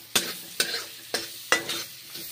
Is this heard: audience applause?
no